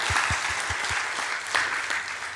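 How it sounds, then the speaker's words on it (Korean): A church congregation applauds during a Sunday service, a dense burst of clapping from many hands, fairly loud and close, with no talking over it. "우리 수고하신 모든 분들께 감사하다고 박수하겠습니다."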